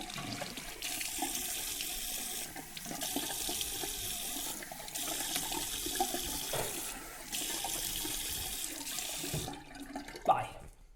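Tap water runs steadily into a bathroom sink during a wet shave with a French bar soap, a continuous close splashing stream with a brief clatter near the end.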